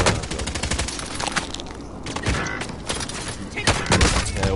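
Rapid gunfire from a PS4 shooter game, dense continuous bursts of shots filling the moment, with players' voices mixed in beneath the noise.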